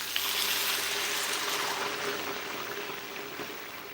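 Three cups of water poured into a cooking pot for red beans in red oil, a steady broadband rushing splash that holds for about four seconds and tapers slightly toward the end, with no talking.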